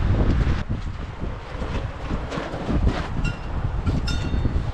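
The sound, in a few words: strong wind blowing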